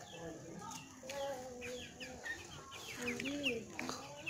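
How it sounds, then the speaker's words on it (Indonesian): Free-range village chickens (ayam kampung, joper crossbreeds) cluck in short, repeated calls at moderate distance, with faint rustling and occasional talk underneath. "Seperti ini ayam kampung yang lain guys."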